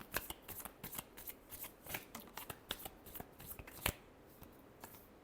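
Tarot cards are shuffled in quick rhythmic riffles and flicks, close and fairly quiet, with a sharper snap near the end and no talking.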